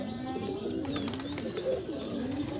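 A pigeon coos in a low, rolling, throaty pattern, close and fairly steady, with faint background noise and no voices.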